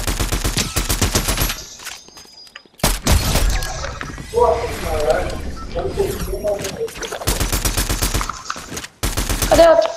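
Rapid automatic gunfire in the video game Fortnite rattles in several long bursts separated by short gaps, loud and close, while a player talks in the middle stretch.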